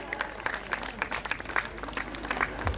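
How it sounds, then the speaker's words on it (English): Dense applause from a school annual-function audience honouring chief guests as turbans are tied on them, steady rapid clapping filling the whole stretch at moderate volume. "Please give them a big round of applause, everyone."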